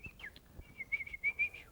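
A person whistles a string of short bird-like tweets, imitating a bird, the notes rising into a quick rhythmic pulse, close and fairly quiet, with no talk.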